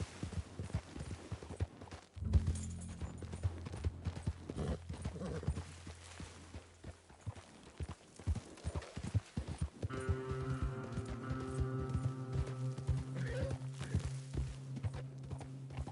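Horse hooves clip-clopping at a steady rhythm in the Red Dead Redemption video game, joined by an occasional whinny and a low throbbing game score, loud and close throughout.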